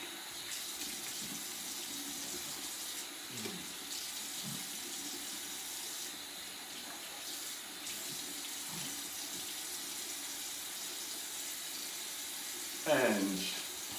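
Running tap water while a face is rinsed after a shave, a steady broadband wash with a louder splash near the end, with brief voice sounds early on.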